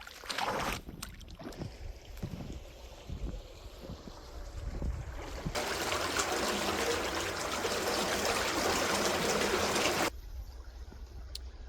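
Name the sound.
drained flood water flowing out to a retaining pond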